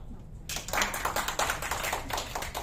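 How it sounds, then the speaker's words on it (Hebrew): Audience clapping breaks out in response to a show of hands at a talk, starting abruptly and continuing as a dense, steady patter of many hands close by with no voices. "בואו, כפיים מי שאחד"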